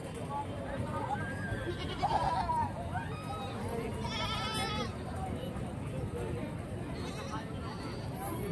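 Goats bleat several times amid the steady crowd noise of a busy goat and sheep market, with people talking throughout and the animal calls rising only briefly above the chatter.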